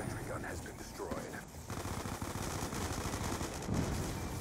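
Bursts of rapid automatic gunfire from the video game Black Ops II rattle continuously at moderate loudness, with talking mixed in at the start.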